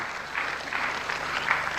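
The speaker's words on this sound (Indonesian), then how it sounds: "Yang setuju berikan tepuk tangan." Audience applause fills a church during a sermon, a steady wash of clapping from many hands that swells slightly and holds for under two seconds.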